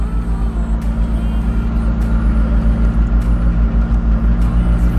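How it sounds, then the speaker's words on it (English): A Ferrari 250 GTO driving down Ocean Ave during Car Week, giving a close, steady low engine rumble with throbbing pulses and faint ticks, and no talking. "Seeing somebody casually drive a 250 GTO down the street."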